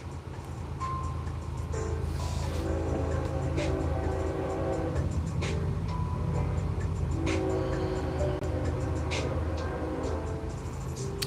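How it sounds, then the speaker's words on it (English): A train rumbles past steadily, with a low continuous drone, rattling wagons and brief higher horn-like tones, and faint voices mixed in underneath. "You guys hear the train? Choo choo."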